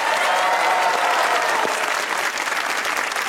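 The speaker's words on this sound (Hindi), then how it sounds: "तो तालियां बजाइए" Studio audience at a stand-up comedy talk show breaks into loud, dense applause, a continuous close wash of clapping throughout.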